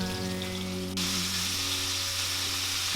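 Chicken cutlets sizzle steadily in a hot pan for Chicken Marsala, a dense crackling hiss that fills the space, with faint kitchen hum underneath and no talking.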